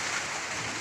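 Typhoon Pepito brings heavy rain down steadily on a Philippine farm, a constant, even hiss of pouring water throughout the brief moment.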